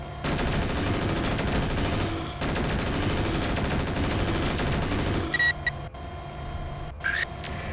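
Rapid APC autocannon fire and pulse lasers in MechWarrior 4, sustained loud bursts of gunfire with brief pauses, then sharp electronic laser zaps and beeps near the end.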